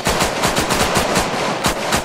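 Rapid automatic gunfire in the military shooter Arma, a dense burst of closely spaced loud shots firing continuously with no pauses or talk.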